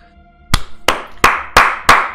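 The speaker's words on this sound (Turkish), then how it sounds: "Bam diye böyle etraftan alkış kopuyor" Five sharp, evenly spaced claps ring out close and loud, each with a short roomy tail, a sparse clapping effect standing in for applause in a tabletop role-playing game.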